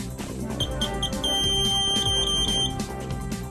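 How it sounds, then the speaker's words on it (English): A Citizen CT-S2000 receipt printer sounds its error buzzer, a high electronic tone repeating in short pulses and then holding steady, layered over background music. "If an error occurs, LED and buzzer indications inform you of the type of error."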